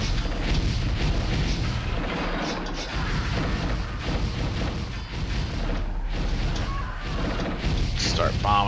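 Bombing in the strategy game 7 Kingdoms: Ancient Adversaries, a dense and continuous rumble of booming blasts and battle clatter at steady loudness, with a voice talking over it.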